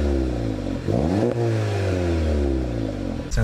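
A salvage Volkswagen Golf GTI with a manual gearbox and resonator delete runs on a test drive, its engine note droning and rising through the revs, fairly smooth and quiet.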